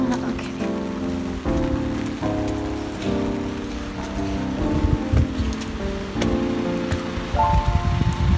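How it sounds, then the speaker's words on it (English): Heavy rain pours down in Korea, a dense patter on surfaces heard alongside sustained tonal, music-like notes that shift in steps, with the rain growing rougher toward the end. "It's raining a lot."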